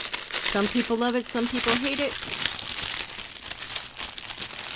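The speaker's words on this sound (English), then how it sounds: "So let me take this out of the plastic." Plastic packaging is pulled off a stamped cross stitch kit, crinkling and rustling loudly and continuously up close while someone talks over the start of the noise.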